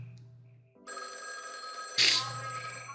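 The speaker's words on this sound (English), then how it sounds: "Please answer the phone." A telephone rings in a video game, a bright electronic trill that starts partway through and swells louder near the end over faint background tones.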